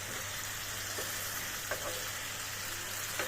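Meat and potatoes for biryani fry in a hot pan with a continuous close sizzle, broken by a few light scrapes as the pieces are stirred.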